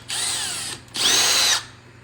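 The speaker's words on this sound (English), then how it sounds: "simply drilling holes in the bag" A power drill running in reverse bores holes through parachute launcher bag fabric for a drag car mount, two steady whining bursts close by with a short pause between, no talking.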